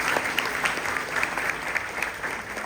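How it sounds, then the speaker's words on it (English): Continuous crowd applause at a school honors celebration evening, a steady, even wash of many hands clapping throughout the short stretch, fairly distant. "Let's give them a round of applause."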